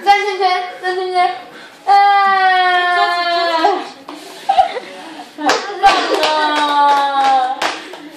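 Young children sing a nursery rhyme loudly up close, with intermittent hand claps and slaps keeping time beneath the melodic sung voices.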